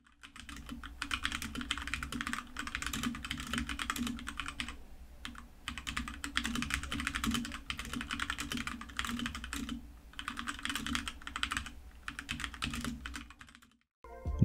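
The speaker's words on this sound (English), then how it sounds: "I'll give you a quick clip of me typing on it." Fast, continuous typing on a HyperX Alloy Origins mechanical keyboard with red switches, dense clicky keystrokes in bursts with short pauses, close and clear.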